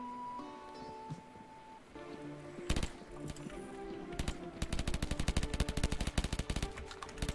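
Rapid, continuous robot gunfire from the M.O.O.D.S. shooting roguelike fills the second half, dense repeated shots over game music and effects, fairly loud and steady without a break.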